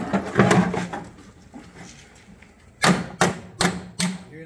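A hammer taps a flat metal panel on a 1972 BMW 2002 during A-pillar repair work: four sharp, ringing strikes at a steady rhythm, close and loud, following a stretch of quieter tapping and handling noise.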